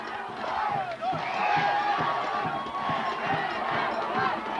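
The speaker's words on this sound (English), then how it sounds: "Thornton Academy crowd beginning to celebrate this one here at Bowdoin College" Thornton Academy crowd celebrating in the stands at a 1986 Class A state championship football game at Bowdoin College, a distant roar of cheering and shouting with whistles, continuous throughout.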